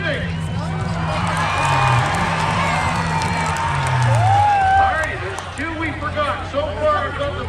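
Crowd at a Richmond demolition derby cheering and whooping over loud, steady babble, with a whistle-like rising tone and scattered shouts; an engine rumble sits low under the noise.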